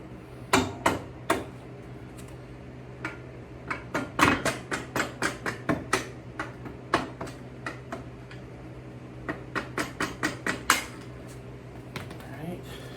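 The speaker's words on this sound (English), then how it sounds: "Just tapping that through with a punch." A hammer strikes a punch to drive the rear axle out of a 2008 Honda Shadow Aero 750 shaft-drive motorcycle, a close run of sharp metallic taps at an uneven, steady pace, some in quick pairs, continuing for over ten seconds.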